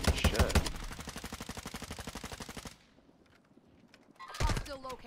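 Rapid, loud automatic gunfire in a video game shooter, a long sustained burst of evenly spaced shots, then a quiet gap before another short, heavy volley with a voice briefly heard.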